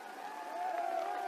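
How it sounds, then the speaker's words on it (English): Basketball fans in a packed arena applauding, a short burst of clapping mixed with crowd murmur, steady and moderately loud, with a faint voice underneath. "They call a foul on Beard. The fans applaud it."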